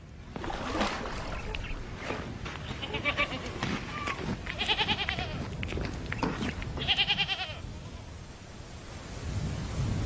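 Small herd of goats bleating near a temporary desert well in the Aïr region, several overlapping wavering calls in bursts over about ten seconds, moderately near, with faint wind and background noise.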